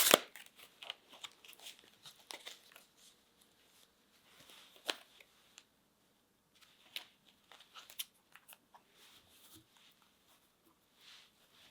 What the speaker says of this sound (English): Just giving them a quick little shuffle,